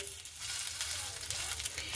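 Semolina snacks sizzle and crackle steadily in hot oil, a dense close frying hiss with no voices.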